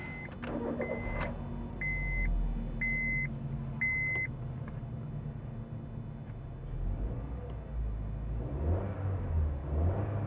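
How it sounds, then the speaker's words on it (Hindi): A 2020 Honda City starts with a series of evenly spaced electronic chimes, then its engine catches and settles into a steady idle. Near the end it revs up into a louder rising rumble, with no talking. "गाड़ी को स्टार्ट करके देखते हैं।"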